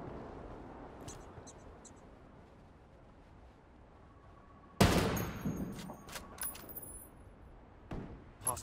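In Ghost Recon Wildlands, a sudden loud volley of gunfire breaks a quiet stretch, with more shots and clinking after it and a last burst near the end.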